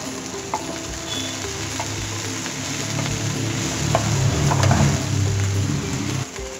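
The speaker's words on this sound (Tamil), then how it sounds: "இப்போ வந்து நம்ம வெண்டைக்காய் ஆட் பண்ணிடலாம்." Okra (vendakkai) sizzles loudly in a hot pan with softened onions and salt for a crispy fry, a steady frying hiss with a few clinks and scraping stirs building toward the end.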